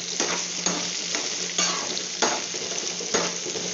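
An egg frying in groundnut oil in a home kitchen: a steady, bright sizzle close by, broken by regular scrapes and knocks of a spatula about every half second.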